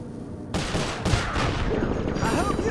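Dense, sustained volleys of gunfire in the Sly Cooper: Thieves in Time video game, with bursts starting about half a second in and continuing throughout, with faint game voices mixed under the shooting.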